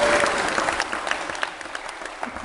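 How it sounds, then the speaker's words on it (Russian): Applause from a seminar audience in Moscow fills the room, a dense steady patter of many hands clapping at close range, with scattered louder claps and no talk over it. "давайте аплодисменты"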